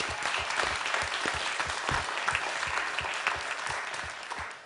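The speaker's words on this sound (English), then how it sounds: "if we can give them one final round of applause." Audience applause for a panel of five speakers at an Institute of Politics live event, a steady dense round of clapping from a large crowd that holds for several seconds at close range.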